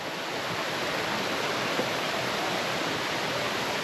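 Kyamunene waterfall in Bukoba, Tanzania, pours as a dense, constant roar, loud and close, with no other sounds standing out.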